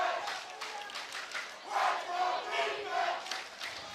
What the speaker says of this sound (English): I don't know if you can hear the chanting of "Let's go defense" from the student body.